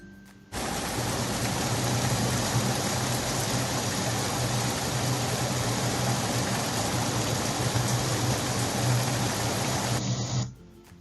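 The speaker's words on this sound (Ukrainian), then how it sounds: "це також дощ, але тут ми чуємо з вами зливу" Heavy rain downpour, a dense steady hiss of fast-falling drops that starts abruptly, holds loud and even, then cuts off.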